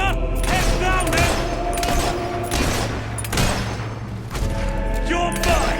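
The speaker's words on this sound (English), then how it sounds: "We're under fire!" Sustained gunfire from a battle in the video game Fable 3: rapid volleys and thumping shots rattle continuously, with voices shouting over the combat.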